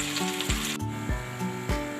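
Chopped okra sizzles and fries in hot oil, a steady close crackle broken by a few soft stirring scrapes, with no one speaking.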